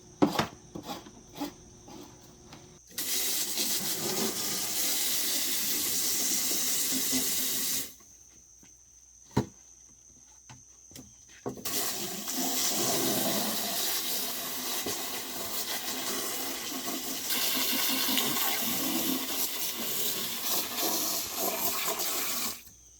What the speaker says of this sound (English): Washing the worm bin trays out, cleaning everything back up under our peach tree here.